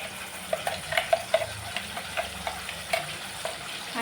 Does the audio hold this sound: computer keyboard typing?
no